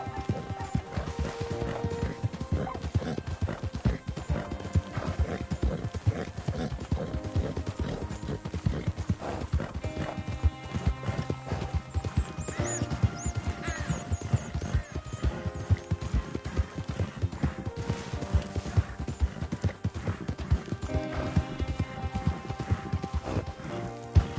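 Horses gallop under riders in Red Dead Redemption 2, with steady rhythmic hoofbeats pounding close and loud for the whole stretch and an occasional neigh breaking through.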